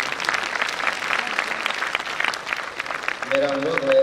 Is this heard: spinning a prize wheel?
no